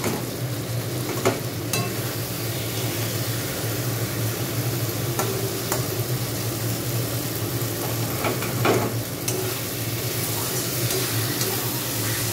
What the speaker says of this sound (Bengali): লঙ্কাগুলো আমি একটু ঘেঁটে দিচ্ছি